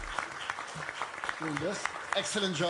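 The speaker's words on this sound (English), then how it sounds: "Give them another applause." An audience applauds at a meeting of North Sea country leaders in Belgium. The clapping is moderate and continuous, with someone speaking briefly over it.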